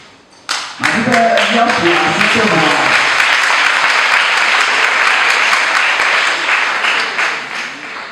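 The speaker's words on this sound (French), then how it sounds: "Je voudrais qu'on acclame très fort" A church congregation breaks into loud, sustained applause that swells quickly and holds steady for several seconds before tapering off, with some voices and cheers mixed into the clapping.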